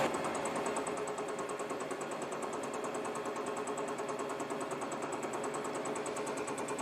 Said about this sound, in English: let's see how this sharpened fly cutter works. So that's 600 RPM